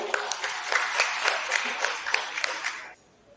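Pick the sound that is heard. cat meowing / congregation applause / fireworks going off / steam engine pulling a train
congregation applause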